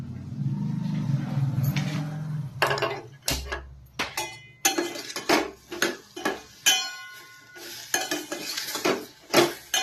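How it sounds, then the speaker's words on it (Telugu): Metal utensil scrapes and clanks against a pan of tomatoes in repeated bursts, close up, with a soft sizzle underneath. "టమాటాలు కూడా మాడనియద్దండి, మంచిగా ఇట్లా కలుపుకోవాలి."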